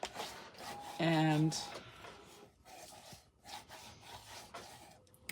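A tool rubs paper edges flat onto a journal page in a few short scraping strokes, close up, with a brief spoken word.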